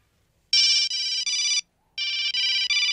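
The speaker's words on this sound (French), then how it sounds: "Ah, la sonnerie insupportable." Phone ringtone from a Breaking Bad episode, shrill and electronic, rings in two loud bursts of three pulses each with a short silent gap between, alone with no voices.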